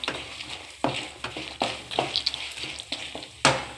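A gojju mixture for gojju avalakki fries in a pan, an ongoing sizzle broken by a string of sharp scraping and stirring strokes against the pan, close and fairly quiet.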